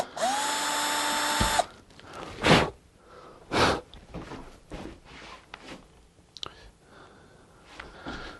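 Cordless drill running in a guitar workshop, a loud close burst of motor whine that spins up, holds for over a second and stops abruptly, followed by quiet handling noises and breaths.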